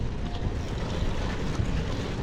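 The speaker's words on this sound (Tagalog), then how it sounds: "Buti na lang mahangin." Wind gusts steadily across the microphone outdoors in a dense, rumbling low buffeting that stays at an even level throughout, with no voices.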